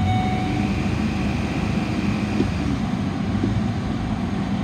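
A 2010 Ford Explorer XLT 4x4 with its check engine light on holds a steady, moderately loud engine drone with a faint whine, never rising past a capped rev.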